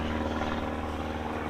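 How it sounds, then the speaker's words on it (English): A light aircraft flies over an outdoor match, its propeller engine making a steady, moderately loud droning hum with no other sound on top. "As we got the light aircraft going over again."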